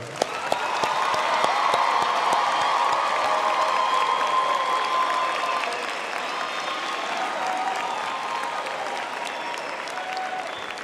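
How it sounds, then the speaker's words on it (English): At a university autumn graduation ceremony, the audience applauds the graduates with sustained, full clapping and some cheering throughout. A steady sound fills the hall and eases slightly toward the end. "I think we can give our graduates another hand of applause"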